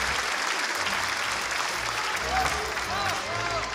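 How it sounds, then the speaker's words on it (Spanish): Steady audience applause from a live crowd at a battle-style show, dense clapping continuing for several seconds with a few voices shouting over it. "Un fuerte aplauso para ellos para iniciar con esta última batalla de la etapa clasificatoria."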